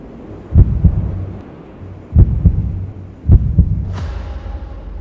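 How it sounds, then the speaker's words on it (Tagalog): A heartbeat thuds in three paired beats, deep and close, with a low hum underneath and a rising whoosh near the end. "biglang lumakas noon ang tibok ng puso ni Sed"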